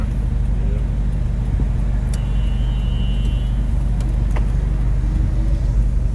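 A right-hand-drive Mitsubishi Delica Starwagon Exceed turbo diesel 4x4 automatic van drives downtown, its low engine rumble and road noise droning steadily from inside the cab, with a few brief clicks and rattles over it.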